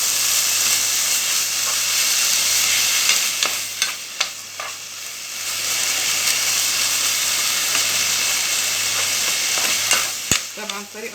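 Meat sautéing in ghee or butter in a pan, a steady close sizzle and hiss with occasional stirring scrapes and clinks, no talk.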